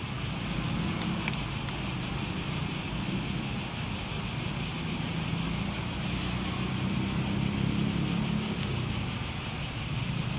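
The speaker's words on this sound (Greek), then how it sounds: "Τα τζιτζίκια δίνουν συναυλία." Cicadas buzz in a dense, unbroken drone at an outdoor construction site, loud and constant for the whole stretch, with faint wind and low rumble beneath.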